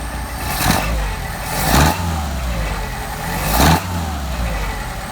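A Mercedes 190SL engine with Solex carburetors revs three times as the throttle is flipped, each sharp surge rising from a steady idle and falling back, loud and close.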